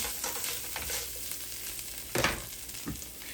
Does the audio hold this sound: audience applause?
no